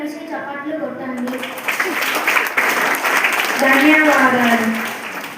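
Children in a school classroom clap together after a quiz answer, a loose burst of applause mixed with young voices speaking over it.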